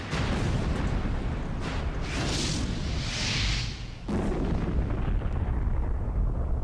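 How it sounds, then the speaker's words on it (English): Big explosion at the end of Resident Evil 2, a loud sustained rumbling blast with roaring debris bursts, briefly dipping before the roar resumes and trails off. "It wouldn't be a 90s action thing without a big explosion at the very end."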